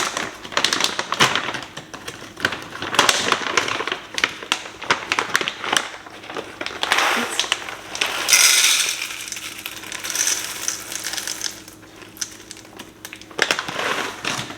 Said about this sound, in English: I'm just gonna grind a little bit just so I have enough to make a pot of coffee